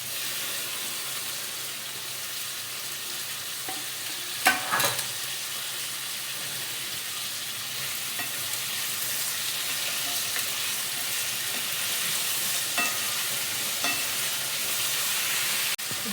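Ginger, garlic, cashews and tomato sauté in a pan for dhaba-style paneer mutter masala. A steady, moderate sizzle runs throughout, broken by a brief clatter early on and occasional soft stirring scrapes.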